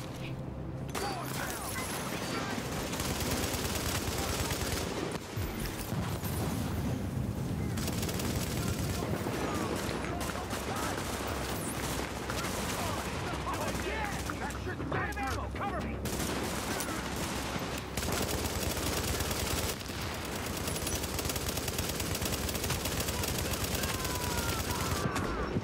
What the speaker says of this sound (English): They got a robot gun!